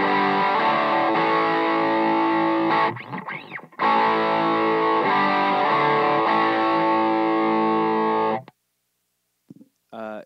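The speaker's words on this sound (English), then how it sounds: "Then I use the Ibanez jet driver for my distortion." A heavily distorted electric guitar through an Ibanez Jet Driver distortion pedal sustains buzzing chords with short gaps between them, loud and close, then cuts off abruptly.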